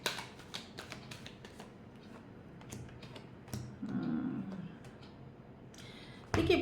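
Tarot cards riffling and slapping in a quick burst of crisp shuffling taps, a denser rustle in the middle, with a louder flurry near the end, close and alone.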